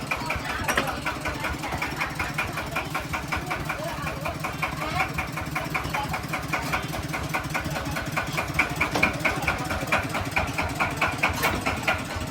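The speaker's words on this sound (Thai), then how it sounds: "โกโก้ถอยครับถอยเกียร์ถอยครั" A tractor engine runs steadily in reverse gear with an even, chugging mechanical rhythm, loud and close throughout, while people talk over it.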